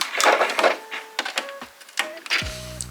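A sewing machine stitches fabric for a Christmas puff quilt, reversing at the end of the seam, with short bursts of motor whine and clicking mechanical stops close by.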